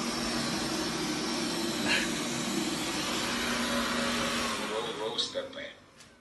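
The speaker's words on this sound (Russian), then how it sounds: "Это пылесос." A vacuum cleaner runs with a steady broadband whine for most of the span, then sputters and cuts out near the end.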